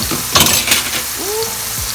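Bok choy being sautéed in a pan, with a loud close sizzle and a couple of quick stirring scrapes early on, then a short whistling tone rising above the frying.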